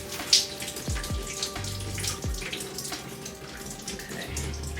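A tap runs steadily, wetting hair under a faucet, with water splashing and a few low thumps and knocks at close range, no voices.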